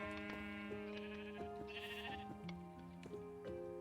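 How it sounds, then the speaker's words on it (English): Sheep bleat repeatedly in the game Minecraft, several wavering, tonal bleats overlapping in quick succession over a faint background hum. "I don't want to bring the sheep up."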